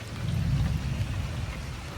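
Heavy rain pours down in a dense, steady wash with a deep low rumble underneath, loud and continuous, with no voices.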